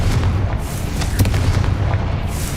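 A Confringo spell explosion in Hogwarts Legacy inside a cavern, a loud rumbling boom with heavy low-end roar and a few sharp bursts, sustained and dense with no voices.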